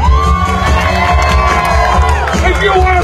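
A dense outdoor crowd at a slugburger eating competition in Corinth, Mississippi cheers and whoops loudly and continuously, with children's shouts and overlapping high voices rising and falling.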